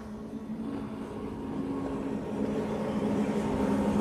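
Powerful boat engines at full throttle near Haulover Inlet, a steady, loud droning rumble with a low hum that swells slightly as the boat runs, carrying on without pause and with no voices.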